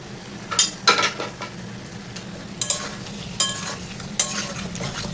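Mutton curry with chopped tomato sautés in a pan, a steady fry sizzle broken by several sharp spatula scrapes and stirs, close and fairly loud, with no talking.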